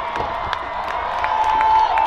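A crowd of fans cheering and whooping at a county fair rough truck race, a continuous roar of voices with a few shouts rising above it.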